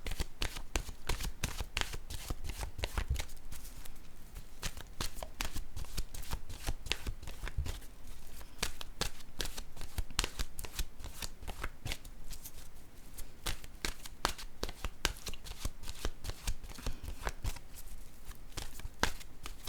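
Oracle cards are shuffled by hand in a continuous rapid riffle of soft papery flicks and slaps, close and even for the whole stretch, with no talking.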